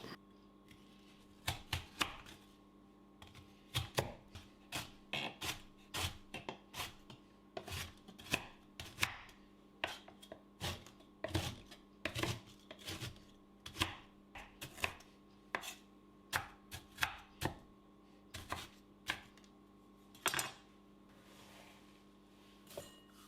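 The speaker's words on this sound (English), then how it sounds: "Next we'll have 6 hobnobs, roughly chopped." Six Hobnob biscuits being roughly chopped on a board for a chocolate chip, caramel and pecan traybake, a quiet series of irregular knife chops and crunches, close and alone.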